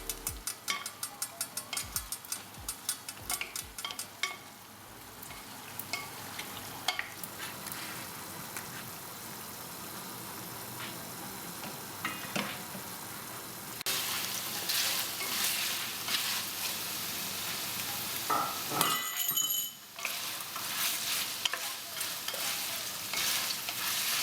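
Buff meat sizzles and fries in a pan while being stirred, a steady dense crackle with occasional scraping of the spoon, close and fairly quiet.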